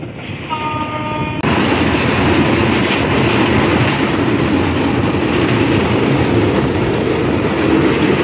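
The Chitra Express from Khulna to Dhaka runs past a rail station in Sirajganj district. A brief horn tone comes first, then a loud, continuous rumble and clatter of wheels on the rails that lasts to the end.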